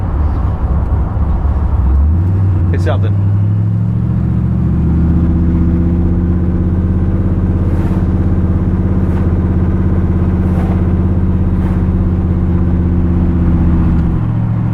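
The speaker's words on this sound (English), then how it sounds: "Such a smooth riding car too." A 1957 Chevy Bel Air, lowered about 4.5 inches on 295 rear and 255 front tires, drives along a rough road, its engine a steady loud rumble that settles in after a rise near two seconds, with brief talk near the start.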